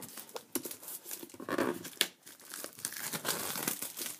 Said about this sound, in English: Okay, got the plastic open,